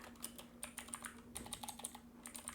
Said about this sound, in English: So I'm typing here hello,